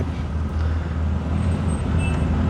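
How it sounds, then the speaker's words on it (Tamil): A grey car approaching on a road among other Maruti vehicles at a meet-up in Thrissur, Kerala, heard as a steady broadband engine and tyre rumble of road traffic that stays loud and continuous with no one speaking. "இங்கே ஒரு வண்டி வருது கிரே கலர்"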